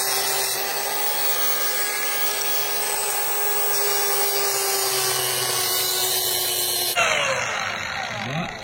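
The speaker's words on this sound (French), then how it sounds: "Je vais recouper les tiges filetées qui dépassent." Power tool grinding steady and loud through protruding threaded rods on a homemade beer-cap table, a continuous high whine that shifts abruptly near the end as the cut finishes.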